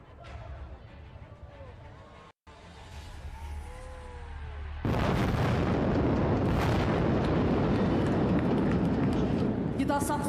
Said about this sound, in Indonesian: Saksikan bersama tembakan kanon Leopard 2 RI.